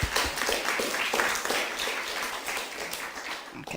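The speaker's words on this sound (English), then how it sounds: "big round of applause for our speakers" Audience applause for the speakers at a talk event, a steady dense wash of clapping held at an even level for about four seconds, with no voices over it.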